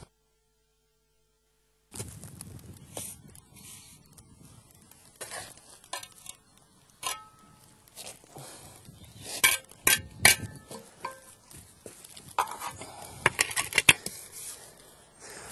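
A steel trowel spreading a freehand bed of mortar for bricklaying: wet scraping and smearing strokes with scattered metallic clinks and taps, close and fairly quiet, beginning after two seconds of silence.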